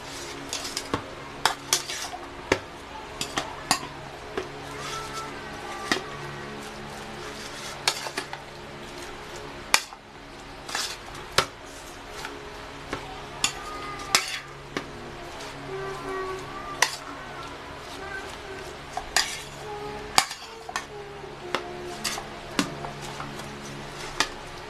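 A utensil stirs a mixture in a bowl, producing repeated clinks and scrapes against the sides with an irregular rhythm, close and fairly loud, with faint background hum and no talking.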